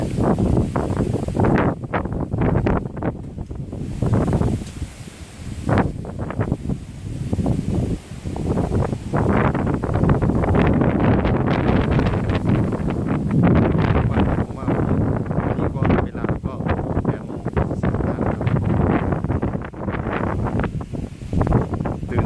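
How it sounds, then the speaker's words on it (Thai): Strong gusting wind buffets the microphone along a Japanese coast during a storm, roaring loudly and continuously with surging swells and brief lulls throughout. "ลมแรงเหมือนเดิมครับ"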